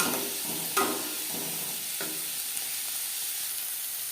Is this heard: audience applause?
no